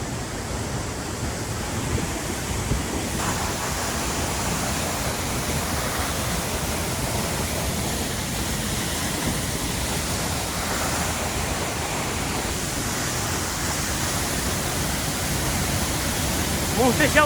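Doğançay waterfall in Sakarya rushing steadily, a broad continuous roar of falling water that stays loud and unbroken throughout.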